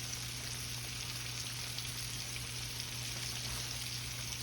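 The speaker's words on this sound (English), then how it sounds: "We're going to fry them till they're golden brown" Chicken frying in hot grease for crispy Asian-style sweet and sour chicken, a steady dense crackling sizzle that continues evenly and close throughout, with a low constant hum beneath and no talking.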